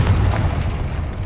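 A Confringo blasting spell goes off in Hogwarts Legacy, a loud, heavy boom with a thick low rumble that fills the moment, with no talking over it.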